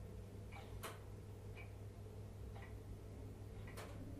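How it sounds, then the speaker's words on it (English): Quiet indoor room with a clock ticking and water dripping, a few sharp sparse ticks and drips over a low steady hum, recorded close and faint with no talk. "Dripping and ticking."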